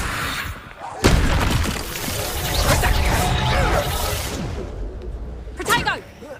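Incendio fire spell cast in Hogwarts Legacy, a sudden bursting whoosh and crackling blast that fades to a roiling rumble, with a second sharp impact near the end over loud combat noise.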